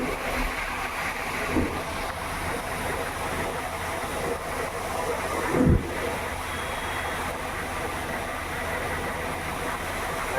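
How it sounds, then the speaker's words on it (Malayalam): Water from a small waterfall rushes in a steady, broadband roar that fills the scene without a break. A couple of short thumps stand out against it. "ചെറിയ രീതിയിൽ കാണുന്ന വെള്ളച്ചാട്ടമാണ്"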